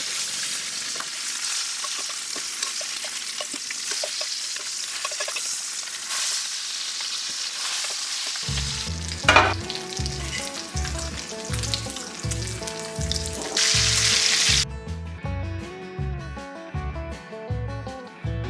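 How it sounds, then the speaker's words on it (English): Bacon sizzles and crackles steadily in a hot pan for the first half, then a rhythmic musical beat takes over with the sizzle underneath. "Here I'm frying some bacon that will be used in the ranch potatoes."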